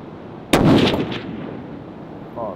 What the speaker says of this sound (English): Now Nick's behind the gun and he's gonna verify 660.